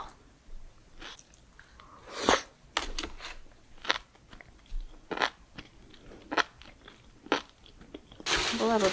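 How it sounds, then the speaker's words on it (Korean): Close, crisp crunching of enoki mushrooms being chewed during a mukbang, with irregular bites and rustles spread across several seconds and a louder burst near the end. "팽이버섯 소리 미쳤다. 들어보세요."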